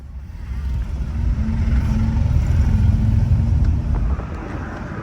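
Scooter and vehicle engines in Nepal traffic, producing a continuous low rumbling drone that swells and then eases, nearby and fairly loud, with no talking.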